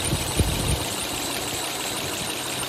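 A 2009 Honda Odyssey engine idling after an oil leak repair, a steady low rumble with a few soft knocks at the start, loud and close with no talking.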